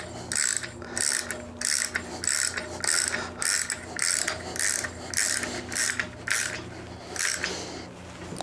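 Ratchet cranking while tightening a Dobinsons MRR 3-way front strut assembly for a 2024-2026 Toyota Land Cruiser, with about a dozen steady bursts of clicking strokes, close and fairly loud, and no talk.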